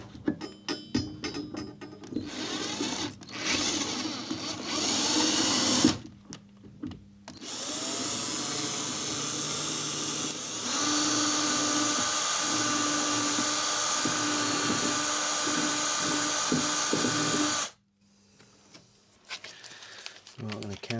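Power drill piloting a hole into the hard block of a small home-built boat before brass fittings go in, a steady close whine running in long bursts with short pauses, mechanical clicks between runs.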